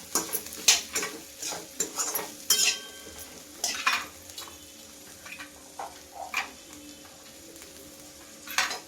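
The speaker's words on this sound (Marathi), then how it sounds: "त्या चांगल्या दोन मिनटं तेलामध्ये चांगल्या गरम करून घेतल्या परतून घेतल्या" Mixed vegetables, including drumstick and ghevda beans, stirred and sautéed in hot oil for a Bhogi festival dish: an ongoing sizzle punctuated by repeated scraping and clinking spoon strokes against the pan, loudest early and easing later.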